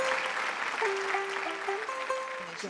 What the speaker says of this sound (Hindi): एंड विजय जी के लिए तालियां और मैम आपके लिए स्पेशली तालियां प्लीज